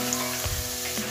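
Spices sizzle in hot oil as tempering for jhunka, a brief, steady frying hiss with a soft thump or stir midway.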